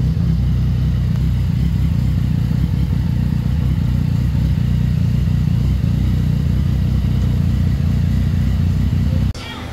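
A Venturi 500 motorcycle engine running to circulate oil during an oil change and tune-up, a loud, close, steady idle rumble that cuts off just before the end.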